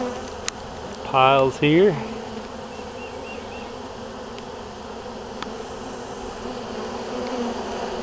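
A honey bee swarm in Kansas being brushed into a hive box gives a steady buzzing drone through the whole clip, with a brief spoken phrase and a short tonal sound in the middle.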